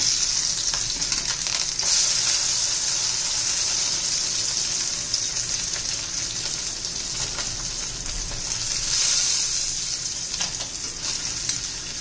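A chapati cooks on a hot pan, giving a continuous close sizzle and hiss with light stirring-like scrapes, steady throughout with no voices.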